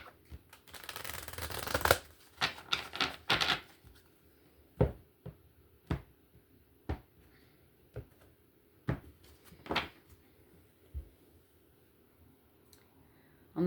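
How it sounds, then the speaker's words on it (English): A deck of cards riffled in a dense burst near the start, followed by several sharp individual card snaps and taps spaced out over quiet moments. "One more shuffle for Aries."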